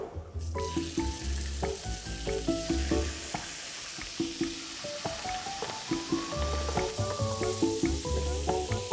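Food fries in a hot pan with a touch of oil, a steady sizzle with stirring and scraping on top, close and continuous with no talk.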